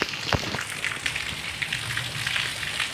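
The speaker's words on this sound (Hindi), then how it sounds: "बहुत ज़्यादा बारिश हो रही है, बहुत भयंकर वाली बारिश हुई है थोड़ी देर तक।" Very heavy rain pours down during a monsoon downpour, a dense steady hiss of drops drumming on surfaces with a few louder splats near the start, loud and continuous with no talking.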